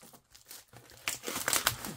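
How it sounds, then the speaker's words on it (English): A cutter blade slicing open the packaging of a BRACHARD Geneve note pad and fountain pen stand set, heard as crinkling, tearing plastic and cardboard with scratchy bursts that grow louder and denser toward the end, close by and with no talk. "I think that this cutter will do the job"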